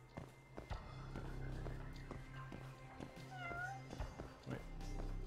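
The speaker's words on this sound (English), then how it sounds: "Look, a cat." A cat in the Judgment video game meows several times, faint and somewhat distant, over soft footsteps and quiet ambient game sound.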